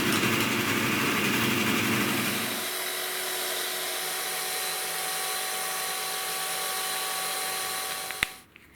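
A small drill cuts holes in a marine plywood back for a wooden watch, a steady close motor whine that eases off after a couple of seconds and continues more quietly before winding down with a click at the end.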